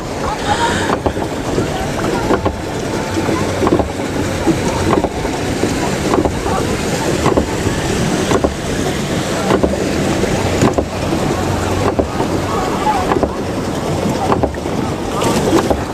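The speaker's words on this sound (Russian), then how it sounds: "О, даже волны." Constant wash of sea water and waves around a boat at Ölüdeniz, Turkey, with wind noise and periodic splashes, steady and fairly loud throughout.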